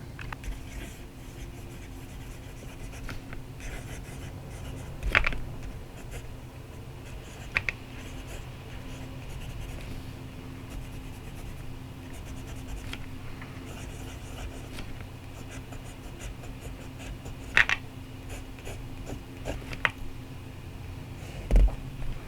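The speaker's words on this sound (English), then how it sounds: "from the minute the nib touches the paper is you get more drag on Cosmo Air" A medium fountain pen nib writing on Cosmo Air paper, a soft continuous scratchy drag heard up close and quiet, with occasional sharper taps as the nib lifts and lands.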